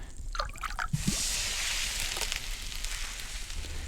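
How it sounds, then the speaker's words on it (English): Broth poured from a pot into a pan in a cooking game, a few wet drips and squishes followed by a sustained soft liquid splash and trickle. "Pour the broth from the pot into the pan."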